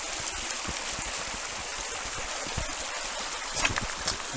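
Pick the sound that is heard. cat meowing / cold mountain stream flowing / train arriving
cold mountain stream flowing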